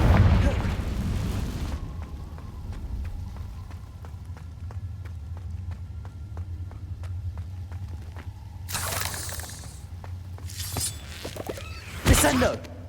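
Fiery Confringo spell blasts in the Hogwarts Legacy video game, a heavy rumbling boom at the start, quieter crackling game ambience, then several bright bursting explosions near the end, with a voice calling out the spell.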